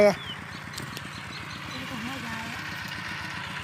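A farm tractor engine runs at a steady, rhythmic chug close by in a field during a cassava harvest, with a brief louder knock at the very start and the even putter continuing throughout.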